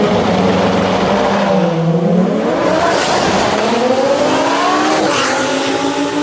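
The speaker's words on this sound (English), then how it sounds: "So the Lamborghini will be the final car to go down the racetrack." A Lamborghini launches down a drag strip at a racing event, its engine screaming upward through rising revs with a quick gear change, loud and close, with crowd and track ambience behind.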